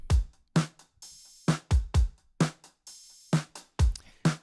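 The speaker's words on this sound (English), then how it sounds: "The drums without any processing sounds like this." A dry, unprocessed, muted drum set beat plays alone: punchy kick and snare hits in a steady groove, with short cymbal accents between them.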